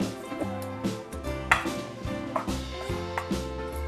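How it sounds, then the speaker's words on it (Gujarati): Roasted garlic and ginger are stirred in a pan, a spoon scraping and tapping against the metal in quick irregular knocks, close and clear with no talking over it, plus a faint sustained musical tone in the background. "હવે લસણ અને આદુને આ રીતે હલાવતા ઠંડુ કરી લઈશું"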